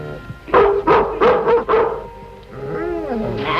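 A dog barks several times in quick succession, loud and close, followed by a whining, whimpering sound.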